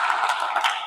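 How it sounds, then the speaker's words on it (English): Audience applause in a lecture hall during a spiritual talk, a short steady burst of clapping from many hands, fairly close and continuous, with no speech over it. "Give him applause again."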